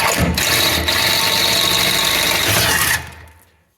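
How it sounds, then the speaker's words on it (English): A power drill bores a new hole into the body of a Honda Acty minitruck, with a loud, steady close whine for about three seconds after a brief hesitation, then it winds down and stops. "I think the right thing to do is just drill a new hole down here somewhere."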